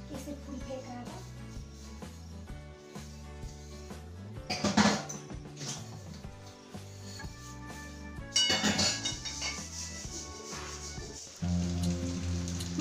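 Dishes being washed at a kitchen sink: running water patters steadily while plates, pots and cutlery clink and clatter in irregular bursts, fairly close and continuous throughout.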